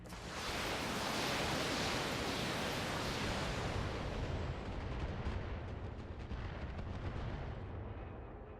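LRM missile volleys fired in the BattleTech game, a huge sustained roar of launches and impacts that swells and rumbles for several seconds before slowly fading, loud with no voices.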